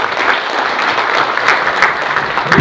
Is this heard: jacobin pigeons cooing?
no